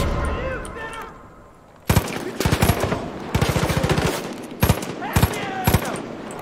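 In Far Cry 5, loud rapid gunfire comes in several sharp bursts of automatic fire and single shots, with quieter game sounds and a faint voice before the shooting starts.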